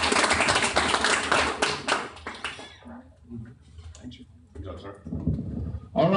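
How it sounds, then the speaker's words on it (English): Applause from a tech meetup audience in a startup venue, a burst of clapping over the first few seconds that thins to scattered claps, with talking and room noise around it. "Everybody give Ryan a big round of applause."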